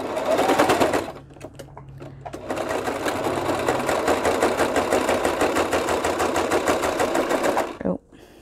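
A sewing machine stitches a little notebook, running in a steady close whirring buzz for several seconds after a brief start, then stopping abruptly.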